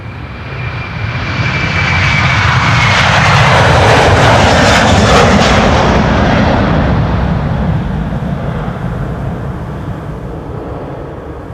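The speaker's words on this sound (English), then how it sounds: "over here we have a KLM A330-200 going to Washington. Spooling up." KLM Airbus A330-200 spooling up for departure at Amsterdam Schiphol, a loud, broad jet engine roar that swells over several seconds, holds at a peak, then eases slightly, with a thin high whine riding on top and no voices.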